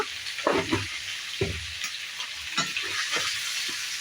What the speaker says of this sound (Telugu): ఒకసారి అంతా బాగా మిక్స్ చేసుకొని ఒక టూ మినిట్స్ ఆయిల్లోనే మగ్గనిద్దాము మటన్ని